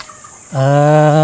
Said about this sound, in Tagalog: Check naman natin yung mga sisiw.